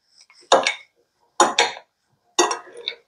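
Roasted vegetables being mixed in a dish, heard as three separate bursts of clattering utensil against the dish, close, with quiet gaps between them.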